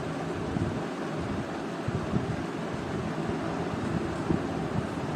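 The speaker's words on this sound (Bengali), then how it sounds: "কচুটা একটু ভেজে নিতে হবে ভালো করে," Pieces of taro (kochu) fry in a pan of oil tempered with nigella seeds, giving a steady, soft, even sizzle with faint pops and no talk.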